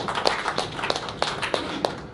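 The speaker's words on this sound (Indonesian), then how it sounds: "Kita boleh berikan tepuk tangan yang meriah hadirin sekalian." Scattered claps from an audience at a press conference for Indonesia's motorsport association and the Mandalika Grand Prix, a thin sparse patter of individual hands that stays at moderate level without swelling into full applause.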